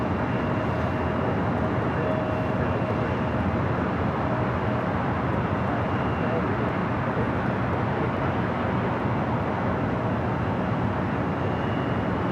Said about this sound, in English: So the Turkish A350 will now cross over 24 left, take what they're now calling the coastal route over to the south side.